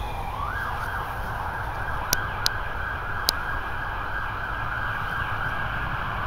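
A steady, loud emergency siren wails continuously in the evening near Jarrow Cemetery, holding a high wavering tone, with a few brief clicks over it and no voices.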